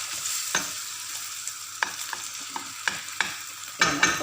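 Egg and hotdog frying in a pan are stirred with a utensil, giving a steady sizzle broken by repeated sharp scraping clicks against the pan, close and fairly loud.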